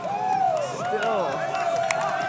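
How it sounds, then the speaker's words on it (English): Cheering crowd at a DDR (Dance Dance Revolution) A3 tournament round, a loud burst of whoops and voices rising right after a match ends, with an excited commentator talking over it. "And the crowd going wild for Patball."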